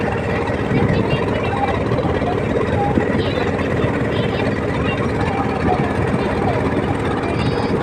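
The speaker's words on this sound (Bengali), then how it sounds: "ফটফটি নৌকা।" A motorized wooden country boat crossing a river: a low, steady engine drone runs throughout, with people talking over it close by.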